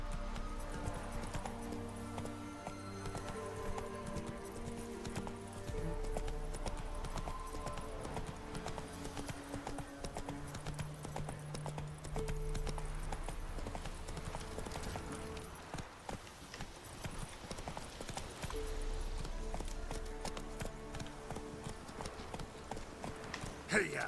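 Horse hooves clip-clop at a gallop in The Witcher 3: Wild Hunt, a steady rhythmic pounding under a game music score, with voices calling out to urge the horse on.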